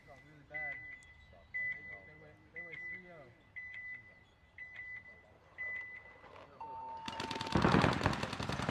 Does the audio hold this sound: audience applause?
no